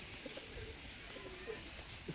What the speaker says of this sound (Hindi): ये देखो बिल्कुल चूड़ी में से निकलने वाला कबूतर